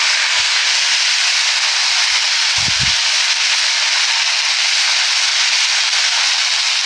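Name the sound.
cumin and ginger paste sizzling in hot oil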